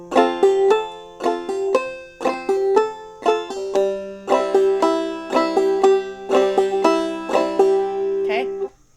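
A clawhammer banjo plays the tune "Snowdrop" up close, with bright plucked notes and strummed brushes in a steady bouncing rhythm, the phrases repeating several times before a final ringing chord.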